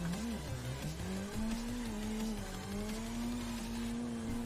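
A drifting car with its engine droning steadily and tires squealing continuously, a loud sustained sliding screech with a wavering pitch and no voices.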